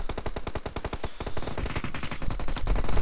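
Rapid automatic gunfire in the battle royale mobile game BGMI: a fast, evenly spaced string of loud shots at first, then blurring into a denser, continuous clatter of fire and impacts.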